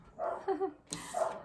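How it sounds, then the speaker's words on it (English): From a room downstairs, a dog lets out a few muffled barks in two short bursts. The barks come through walls or a floor and sound moderately loud, with no voices. "That's the dog downstairs."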